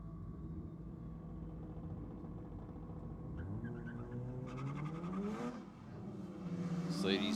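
Mazda RX-7 and Mercedes-Benz drag racing at a track night: engines rev and rise in pitch from a distance as the cars launch down the strip, with a commentator talking over them.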